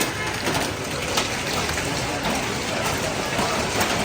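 Hailstones fall outdoors in a heavy, steady pelting roar that stays continuous and loud throughout, with faint voices underneath.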